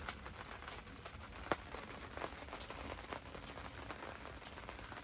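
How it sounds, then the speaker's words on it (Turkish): Rain falling on a tent at night during car camping with a stove-heated tent, a steady soft patter of drops with a few sharper taps, close and even, without voices. "Şimdi yağmur başladı."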